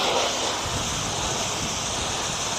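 Water sprays steadily onto a dirty wheel and its lug nuts during a hand car wash of a 2008 Impala LTZ. The hiss is close and continuous, with no voices.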